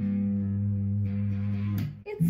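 Electric guitar run through a saved effect preset, holding a sustained, heavily processed chord that rings steadily near and loud, then briefly shifts and breaks up at the end.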